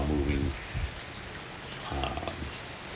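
Heavy rain from a Hurricane Ian rain band near Orlando, Florida, a dense steady hiss of downpour throughout, with brief low murmuring swells near the start and middle.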